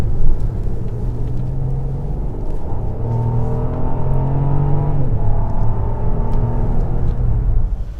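Armored 2024 Mercedes S680 Guard V12 driven hard with understeer, a loud continuous engine drone and road rumble with rising and falling tones as the car works through a corner, no voices.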